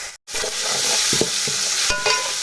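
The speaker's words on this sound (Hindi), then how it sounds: "इसी के अंदर हम डाल देंगे 1 चम्मच लहसुन अदरक का पेस्ट। इसकी जस्ट हमने 1 ही मिनट भुनाई करनी है" Garlic and ginger paste sizzles and fries in a pan for a beef yakhni pulao, with a steady loud crackle, stirring scrapes and a brief gap near the start.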